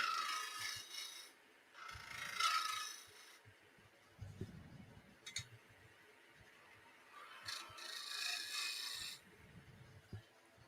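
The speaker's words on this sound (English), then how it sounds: "I just got to refine that tenon with my flat shoulder." A flat shoulder plane shaving and refining a wooden tenon, repeated rasping strokes in bursts with pauses between, close and fairly quiet, with small knocks of the tool against the wood.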